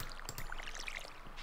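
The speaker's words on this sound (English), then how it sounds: "So let's water these crops" A watering can pouring over crops in the farming game Stardew Valley, a faint, soft trickling splash of water.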